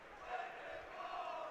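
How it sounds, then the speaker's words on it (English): Arena crowd at a college hockey game at PNC Arena chanting a red and white fan song, a sustained distant roar of massed voices filling the room. "the red and white song rolls through the crowd at PNC Arena"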